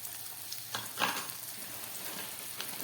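Boiled potatoes with turmeric fry in a pan, giving a soft, steady sizzle broken by a few brief stirring scrapes.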